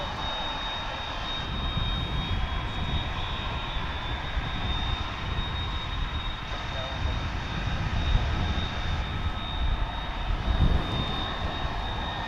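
An MD-11 jet at DFW airport gives off a continuous engine roar with a thin high whine riding on top, moderately loud and steady throughout.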